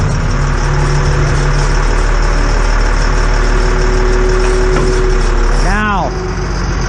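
A GMC Topkick hooklift truck engine idles steadily and loud throughout, with hydraulic whine as the jib moves back and a rising mechanical sweep near the end; a voice talks over it.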